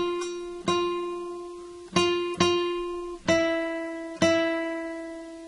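A guitar plays five single plucked notes on the first string, three of one pitch then two open, a slow phrase from the Jingle Bells chorus, each note ringing out clearly and decaying alone without any voice.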